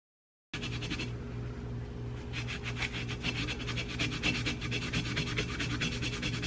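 Abrasive paper scrubs over a painted vase in steady back-and-forth strokes, a close, continuous rasping rub with a rhythmic texture.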